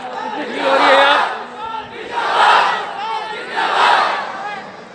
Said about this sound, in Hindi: आप बता सकते हैं कितनी भीड़ हो रही है यहाँ?